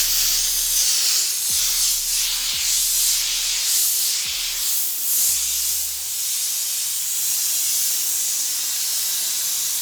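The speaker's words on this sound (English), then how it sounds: "Always first pre-steam the surface." Loud, continuous hiss of an Optima Steamer XDM spraying steam close up on a car surface, holding steady for several seconds with slight surges and a few faint low clicks.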